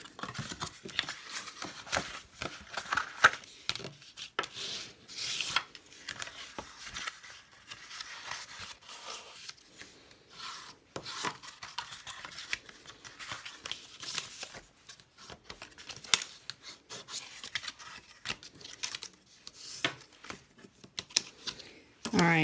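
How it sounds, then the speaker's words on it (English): Bone folder rubbing and burnishing along the folds of a paperboard pop-up gift box, a soft irregular scraping and swishing close by, with brief taps and paper handling between strokes and no talk. "I'm just going to take my bone folder and burnish these so we get nice crisp folds"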